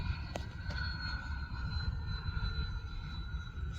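Freewing A-10 80mm RC jet flying at half throttle, a steady ducted-fan whine with a sustained high tone over a rumbling, wind-blown background, continuous and moderately distant.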